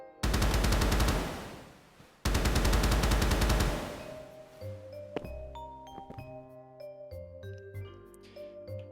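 Default rifle in a Godot zombie game prototype fires in two long rapid automatic bursts, loud and close, followed by ringing chimes and thuds as the firing stops.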